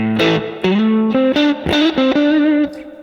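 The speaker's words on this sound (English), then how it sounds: "just see what the Fender sound on this sounds like" An electric guitar played through a Neural DSP Fender amp model plays a short run of sustained notes with a clean, amp-like tone and slight grit, each note ringing before the next.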